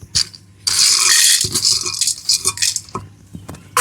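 Whole cardamom pods tossed into a pan while making biryani masala, a short clattering rattle of small hard pods striking metal, close and loud, followed by lighter scattered clicks and taps.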